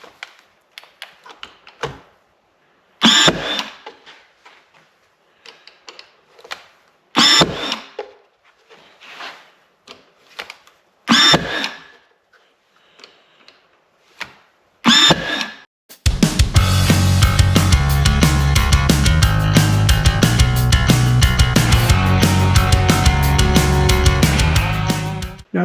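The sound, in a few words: nail gun shooting 2-inch nails into wooden flower box trim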